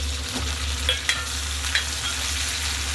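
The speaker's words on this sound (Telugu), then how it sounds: "ఉల్లిపాయ వేగిందండి ఇప్పుడు టమాటా వేసుకోవాలి" Chopped tomatoes frying with browned onions in oil, a continuous sizzle under a low hum with a few brief utensil scrapes, no talking.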